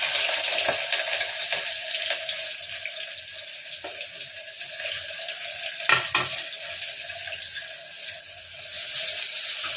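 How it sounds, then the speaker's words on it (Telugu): Onions and green chillies fry in hot oil for Telangana-style spicy mutton liver, a steady loud hissing sizzle with occasional stirring knocks and no talk. "నూనె వేడైంది, పచ్చిమిరపకాయలు వేసుకోవాలి. ఉల్లిగడ్డలు వేయాలి."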